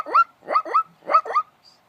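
A person imitates a zebra call with five quick, barking yelps in a rhythmic series, close and fairly loud, followed by a brief silence.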